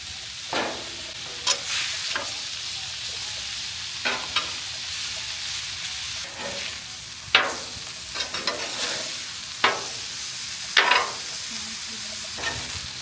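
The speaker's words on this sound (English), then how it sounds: "some chicken apple sausage that I sliced into little medallions that we're going to toss on the griddle" Sliced chicken apple sausage medallions sizzle steadily in oil on a flat griddle, with repeated sharp spatula scrapes and taps breaking through the continuous frying hiss.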